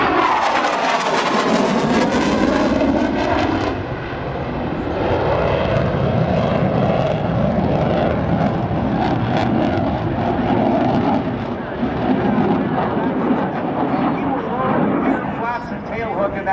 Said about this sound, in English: as he approaches here at some 350 miles per hour, watch him as he sets up for the carrier brake